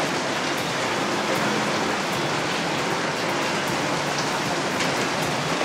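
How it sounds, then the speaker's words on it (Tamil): Heavy, unbroken rain pours down in Velachery, Chennai, a dense steady hiss of drops on surfaces that stays loud and even with no voices. "இடைவிடாது பெய்து வரும் கனமழை காரணமாக சென்னை வேளச்சேரி ஏஜிஎஸ் காலனி பகுதியில் வீடுகளுக்குள் மழைநீர் புகுந்துள்ளதால் பொதுமக்கள் கடும் அவதியடைந்து வருகின்றனர்"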